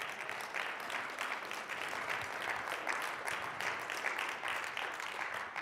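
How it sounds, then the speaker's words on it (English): Crowd applause at a live-streamed talk, steady rapid clapping from many people, fairly distant and soft, continuing evenly without pause. "You may applaud."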